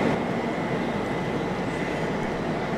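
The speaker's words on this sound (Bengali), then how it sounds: "দুর্গাপুর থেকে ট্রেন ছেড়ে দিল।" The Sealdah Rajdhani Express pulls out of Durgapur station, heard as a steady, broadband rumble of rolling wheels and carriage noise that holds at an even level throughout.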